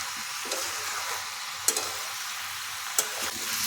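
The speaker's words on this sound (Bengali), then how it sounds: "বাঁধাকপিটা খুব ভালোভাবে ভাজতে হবে, যতক্ষণ না এই জলটা শুকিয়ে যায় ততক্ষণ সমানে ভাজতে হবে" Shredded cabbage fries in a pan, giving off its water as a continuous wet sizzle, stirred with a couple of sharp scrapes and knocks; no voices.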